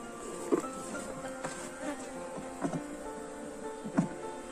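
Honey bees from a small daughter swarm settled on two frames in a hive box, giving a steady close buzzing drone with occasional louder passes of individual bees flying near.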